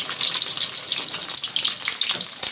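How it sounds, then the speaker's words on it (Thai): Curry paste being stir-roasted in hot oil in a pan, a bright crackling sizzle with scraping stirs that rises and falls in quick bursts, close and fairly loud, alone. "คั่วพริกแกงนะจ๊ะคั่วพริกแกงหอมเซ็ต"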